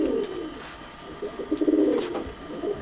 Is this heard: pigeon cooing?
yes